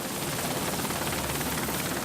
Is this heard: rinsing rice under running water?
no